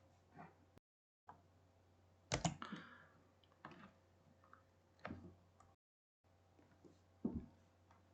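A computer keyboard is tapped in short bursts of soft, close key clicks, quiet against a faint low hum, with brief pauses and gaps of silence between the clusters.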